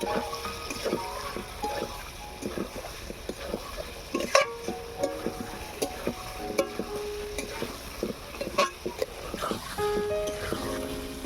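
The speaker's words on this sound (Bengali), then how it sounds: "এবারে ভেজে রাখা পটলটা দিয়ে দেব আবারও ভালো করে কষিয়ে নেব" Potatoes and pre-fried pointed gourd are stirred and fried together in a pan for a Bengali egg and pointed gourd dish, with steady sizzling broken by repeated scraping stirs close by.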